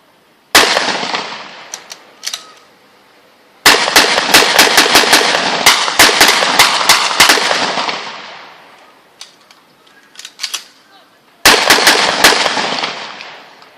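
A Thompson-type carbine fires rapid semi-automatic shots outdoors at a plaza demonstration: loud, sharp cracks in quick bursts with pauses between volleys, each bang ringing out in echoing decay.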